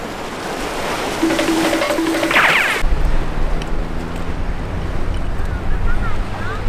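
Wind buffets a microphone outdoors at a Tokyo flea market, producing steady low rumbling gusts, with voices talking in the background.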